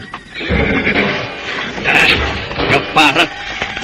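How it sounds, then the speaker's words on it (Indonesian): Three horses trot toward a camp in tall grassland, neighing loudly in several bursts over clip-clopping hooves, with voices talking over them. "Tiga ekor kuda itu berderap semakin mendekati perkemahan para perampok di tengah padang ilalang karautan."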